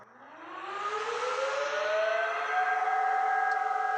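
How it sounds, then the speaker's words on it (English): Fans on an IBM System x3650 M2 server spin up to full speed: a loud, close whine climbs steadily in pitch over about two seconds, then holds at a constant roar with no talking. "Fan spun up, full tilt"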